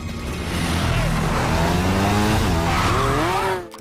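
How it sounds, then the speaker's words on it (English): A synthesized exhaust note for a modified Buell motorcycle, blending seven motorcycles, a fighter jet and a lion's roar, holds a loud, steady, rising engine whine alone for several seconds before cutting off. "The Buell's exhaust note was completely replaced with a synthesized sound that mixed recordings from 7 different motorcycles, a fighter jet, and a lion's roar"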